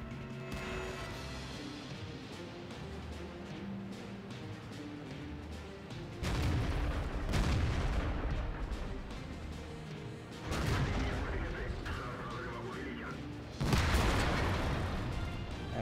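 Tank cannon fire strikes the player's ISU-152 in World of Tanks: heavy booming impacts land in three loud bursts over a constant rumbling battle din.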